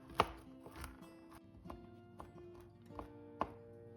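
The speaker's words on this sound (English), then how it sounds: "Now we're going to chop 3/4 cups of pecans" A knife chopping pecans on a cutting board, giving sparse, sharp thunks at irregular intervals, each hit crisp and close over quiet background.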